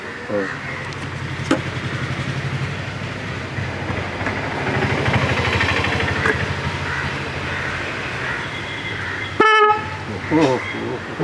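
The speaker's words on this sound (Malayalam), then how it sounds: "എന്തൊരു ഹോൺ" A Maruti Zen carburetor engine rumbles steadily, then a loud, brassy old car horn blares in a couple of bursts near the end.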